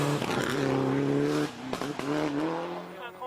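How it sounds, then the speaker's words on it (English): A Peugeot 208 R2 rally car with a 1600cc engine screams past at high revs on a rally stage, engine pitch climbing and dropping through quick gear changes, loud and close, with a commentator talking over it. "1600cc engine, you can hear it screaming away."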